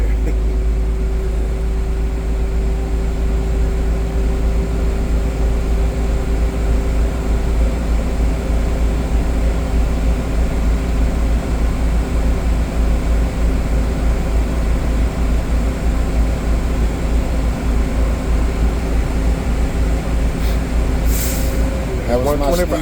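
Inside the cab of a tractor truck, a steady engine idle drones with tonal hum as air pressure builds, then near the end a sharp hissing burst of the air dryer purge marks the governor cutting off at 125 psi.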